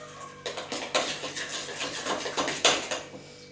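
A spoon scraping and tapping around a mixing bowl while banana cake batter is stirred, a steady series of short clinks and scrapes roughly twice a second, close and fairly quiet.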